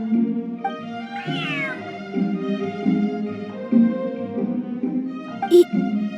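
A cat meows several times in the fantasy game Genshin Impact, a clear close cry with one drawn-out rising-falling call among shorter mews over a soft background tone.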